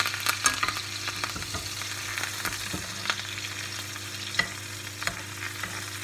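A partridge sizzles and spits in a hot frying pan with crushed garlic, fresh thyme and rosemary, a steady crackling fry with sharp pops and stirring clatters close by, no talking.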